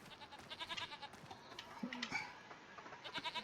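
Goats in the Farming Simulator 25 video game bleat repeatedly in short, nasal calls, several overlapping at moderate distance with brief pauses between bursts.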